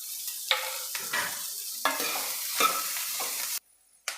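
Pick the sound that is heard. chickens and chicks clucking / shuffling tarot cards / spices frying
spices frying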